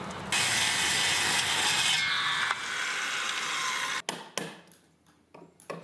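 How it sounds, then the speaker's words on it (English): Lengths of timber for a table top are notched with a tool, giving a continuous loud grinding, rasping cut that shifts in tone partway, then stops, followed by a few sharp knocks and handling sounds. "Just notching in the lengths of timber that go along the top of the table."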